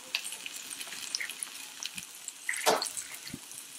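Pot roast searing in hot olive oil in a pan, a soft steady sizzle and hiss with a few faint pops and small clatters, close and fairly quiet, with no talking.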